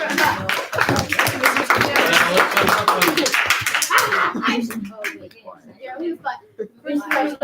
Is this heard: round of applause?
yes